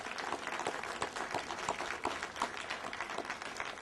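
An audience applauds steadily at a library branch reopening celebration, a dense wash of many hands clapping at a constant level for several seconds.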